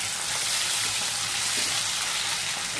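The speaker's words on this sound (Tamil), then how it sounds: "இப்போ வந்து இந்த தக்காளி எல்லாம் போட்டு தெரிக்கும்." Tomatoes fry in hot sesame oil with a dense, loud, continuous sizzle and spattering hiss, steady and close for the whole stretch.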